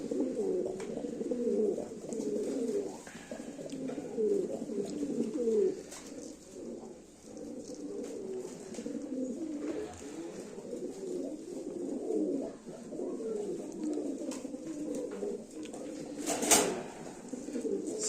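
American Fantail pigeons coo steadily in a breeding loft, a continuous layered murmur of several birds close by, with a brief wing flap near the end and no talking.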